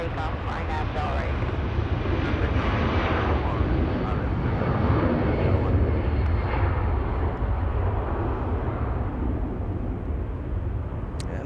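An airliner takes off from runway 24 left at Los Angeles International Airport, a loud, steady broadband jet roar that holds for the whole stretch, with wind buffeting the microphone throughout.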